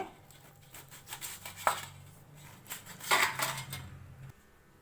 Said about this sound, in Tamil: வெள்ளரிக்காய் தோல் சீவி வச்சுக்க இதையும் கட் பண்ணிக்கலாங்க